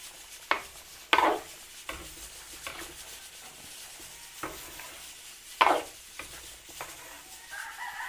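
Quick scraping stirs of a spoon in a pan mixing green peas into a Filipino dish, several sharp strokes spaced apart, with no talk.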